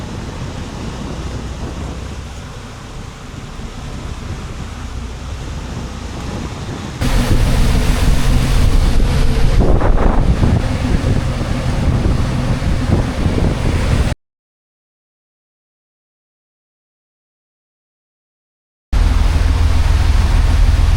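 A yacht's engine drones steadily over rushing water and wind buffeting the microphone on the Great Dismal Swamp canal, loud and close, with a brief break in the sound partway through.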